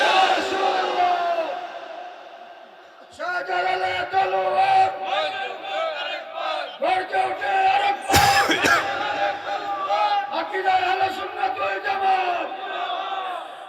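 A large crowd at a Bangla Islamic sermon shouts Allahu Akbar together in loud, ragged rising waves after a preacher's call, voices overlapping with one sharp burst mid-way.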